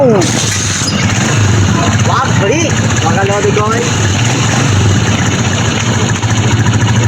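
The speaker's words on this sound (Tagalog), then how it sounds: "ang tahimik ng makina" A Rusi motorcycle engine idles steadily and evenly at close range, a low running hum that continues throughout while people talk over it.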